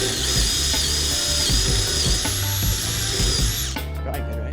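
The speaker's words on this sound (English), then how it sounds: "I'm going to drill a quick pilot hole" A power drill whines steadily at high speed while boring a pilot hole into wood for a homemade ramp, loud and close, then cuts off abruptly near the end, leaving a few faint knocks.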